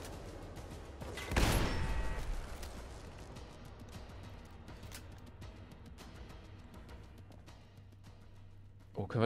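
A loud gunshot blast from the video game Fallout London rings out and fades, followed by a steady game background with some talk, then another sharp shot at the very end.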